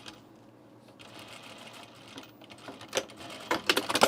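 A sewing machine sews a seam on an unlined blazer, starting with quiet ticking and fabric handling, then rising into short, rapid stitching bursts near the end, close up and without talk.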